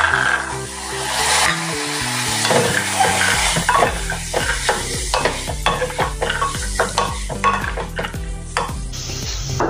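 Spices stirred with carrots and peas sizzling in a hot pan for vegetable pulao, a steady close frying hiss broken by repeated scraping strokes of a spoon against the pan.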